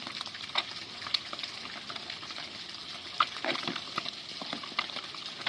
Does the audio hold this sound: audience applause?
no